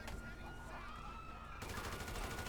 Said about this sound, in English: I mean, like me shooting these guys, you know,